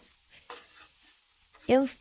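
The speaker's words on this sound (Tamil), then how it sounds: "எவ்வளோத்துக்கு உங்களுக்கு மிக்ஸ் பண்ணிடணுமோ அந்த அளவுக்கு அதை மிக்ஸ் பண்ணி கொள்ளுங்க." Chicken fried rice being stirred and mixed in a pan makes a few scraping, tossing sounds over a quiet background, ending in a short, louder burst.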